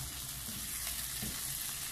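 Baingan bharta with coriander sizzles and fries softly in a pan while being stirred, a continuous quiet crackle with faint scraping movements.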